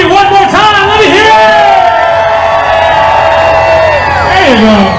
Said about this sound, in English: Balloon handlers for Marshall, I like that cheer.